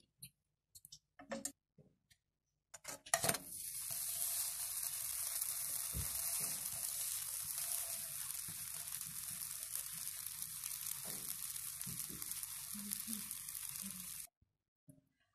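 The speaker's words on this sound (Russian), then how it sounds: "И теперь будем жарить наши блинчики кружевные." Lace pancake batter sizzles steadily in a ladle-shaped pan, a continuous bright frying hiss with faint ticks and crackles lasting several seconds before cutting off, with brief clicks before it starts.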